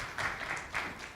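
A conference audience in Dubai breaks into applause: a short, dense patter of clapping from many hands that swells and pulses briefly.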